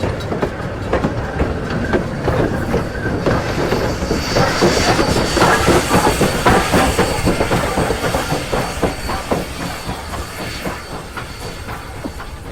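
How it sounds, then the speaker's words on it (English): Heavy train wheels and running gear rumble slowly past close by as the train backs across a level crossing, with rhythmic clacking over rail joints, hissing and occasional squeals. "let's hear the running gear go by as the train backs across the crossing"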